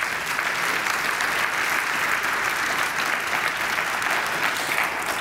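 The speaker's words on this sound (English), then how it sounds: "Would you give him a round of applause," Sustained applause from a large audience at a talk honoring an NYPD officer's 9/11 story, dense even clapping throughout with no pauses.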